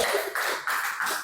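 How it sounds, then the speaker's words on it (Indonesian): A classroom group bursts into applause for group 3, with dense, bright clapping in several quick surges, close and loud, with no talk. "Kasih aplaus untuk kelompok 3."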